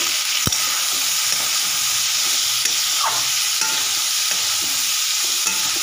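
Peas, green chilli and tomato frying in a pan, giving a steady, close, loud hiss of sizzling throughout, with an occasional knock of a utensil and light stirring, no voices.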